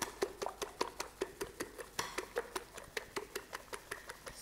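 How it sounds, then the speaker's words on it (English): Wire whisk beating an egg mixture with sugar and salt in a bowl, a fast steady rhythm of light clinking taps against the bowl, close and fairly quiet, with no talking. "We give that a whisk. Whisk it all up."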